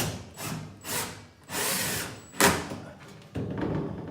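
Power drill driving fasteners into a wall while mounting a Gallowtech firearms wall-hanging panel system, heard as several short, loud whirring bursts separated by brief pauses.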